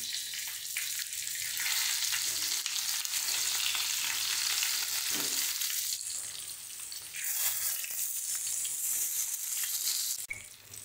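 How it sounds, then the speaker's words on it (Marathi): Bell peppers hitting a hot tempering of mustard seeds, curry leaves and turmeric, a loud continuous hiss of frying with stirring scrapes, dipping briefly mid-way before surging again, close by. "आता आपण याच्यामध्ये मिरची सोडूया."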